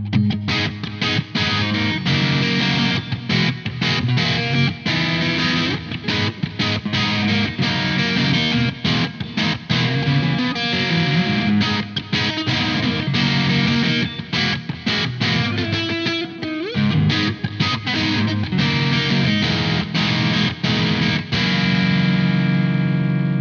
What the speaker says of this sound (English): let's crank up the distortion now to about 3/4 of the way